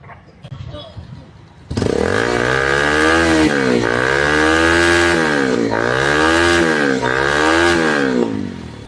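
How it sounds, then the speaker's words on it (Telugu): A motorcycle engine with an unusual silencer kicks to life and idles loudly, revving up and down in a repeating rhythm, close by. "బండి స్టార్ట్ చేయ ఒకసారి"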